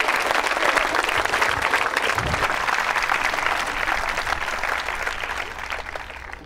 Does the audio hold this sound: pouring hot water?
no